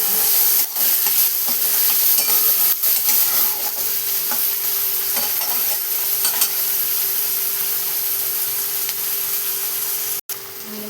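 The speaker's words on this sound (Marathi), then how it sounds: "कांदा टाकून त्यानंतर मी असं मिक्स करून घेतलं" Chopped onion frying and stirred in a pan for a potato and black-eyed bean curry, a loud, steady close sizzle with scraping stir strokes throughout and a sharp clack near the end.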